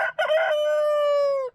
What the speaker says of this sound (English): this rooster's getting frisky